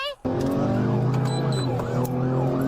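A police car siren wails in rising and falling sweeps during a chase on a highway, with a loud engine droning underneath and brief radio voices on top.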